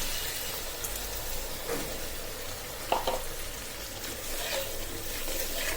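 Soaked ground spice paste frying in a pan with already-fried onion, garlic, green chili and tomato for a papaya fish curry, a soft steady sizzle with a few faint stirring scrapes and no talk.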